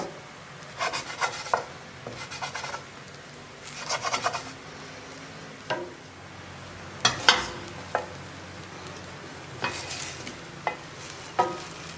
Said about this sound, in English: I'm just going to break it into pieces with my spatula.